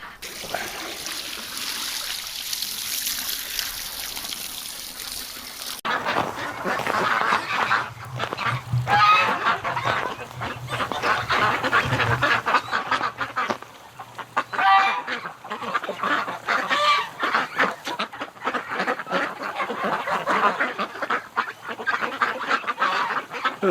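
Ducks and geese honk and quack repeatedly in a snowy winter farmyard on an early morning, a busy chorus of nearby calls with light background noise.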